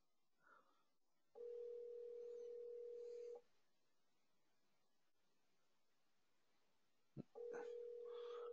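Outgoing phone call ringing back through an automated call-tracking dialer: two steady ringback tones, the first lasting about two seconds, then a pause and a click before the second tone starts near the end.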